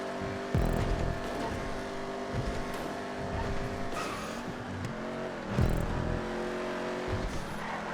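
A Ruiner car from GTA 5 races along with a loud, steady engine drone, shifting pitch with gear changes and brief surges, close and continuous with no talk.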